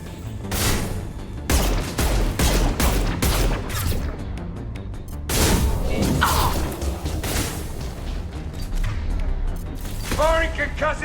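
Heavy concussive-shot blasts and rapid gunfire from the Mass Effect 2 video game, loud booms and whooshing impacts packed densely together, with combat voices calling out over the din.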